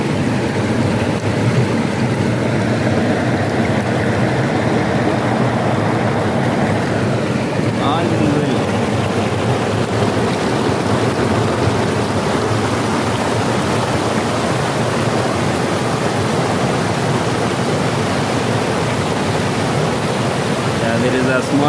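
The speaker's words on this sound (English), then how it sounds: "And this is the river." A river in Kenya rushes with a loud, unbroken roar that stays constant for over twenty seconds, close to the listener.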